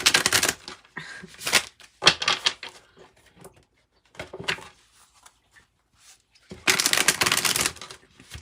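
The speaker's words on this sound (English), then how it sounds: "Let's go ahead and shuffle one more time like this, and then we'll cut it." Tarot cards are shuffled in several crisp, rapid riffling bursts, separated by quiet pauses, close by.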